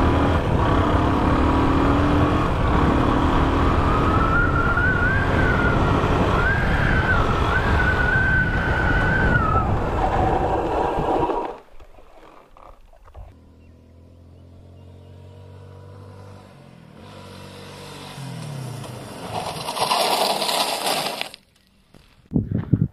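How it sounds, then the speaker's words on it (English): A motorcycle engine runs loud and close, its pitch swooping as the rider brakes hard with front and back brakes together, then it drops to a quieter idle before a sharp bright scrape and a final thump. "Now I'm gonna stop the bike by holding the front and back brake at the same time without holding the clutch lever."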